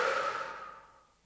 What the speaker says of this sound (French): à l'expire, vous expirez complètement, pourquoi pas bouche ouverte pour relâcher complètement le corps